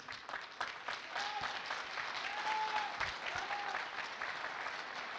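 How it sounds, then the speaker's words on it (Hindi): Audience clapping at a business training session, a steady dense wash of applause running throughout, fairly loud and close, with faint voices now and then beneath it. "तालियां होनी चाहिए।"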